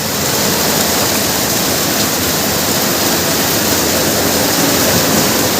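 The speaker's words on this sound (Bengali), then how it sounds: "দেখো বাইরে যা বৃষ্টি হচ্ছে না, মানে দারুণ বৃষ্টি হচ্ছে।" Heavy rain pours down outside in a continuous loud roar of broadband hiss, even and unbroken from start to finish.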